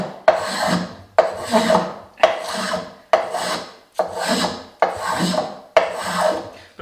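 Small hand plane cutting a wood moulding, seven rhythmic rasping strokes about a second apart, each starting sharp and trailing off, close and fairly loud with no talking.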